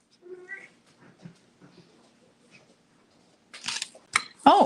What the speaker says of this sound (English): Oh, my cat's back.